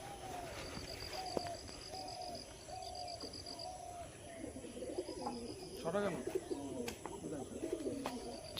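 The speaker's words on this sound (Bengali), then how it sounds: "দাদা পায়রা ছেড়ে দিয়েছে" Pigeons released in a low-flyer pigeon tournament in Nabadwip coo repeatedly at moderate distance, with a chirping bird and crickets around them and people talking nearby.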